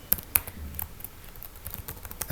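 Quick bursts of keystrokes on a computer keyboard, crisp close clicks in an uneven rhythm with a few louder key strikes, no talk.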